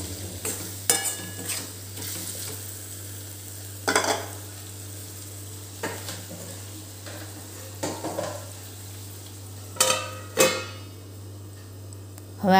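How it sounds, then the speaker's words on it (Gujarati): Aloo palak, a potato and spinach sabzi, frying in a pan with spices and salt, with steady sizzling under repeated stirring and occasional scrapes of a spoon against the metal, all heard close up over a low kitchen hum. "હવે આને 5 થી 7 મિનિટ આપણે ચડવા દઈશું."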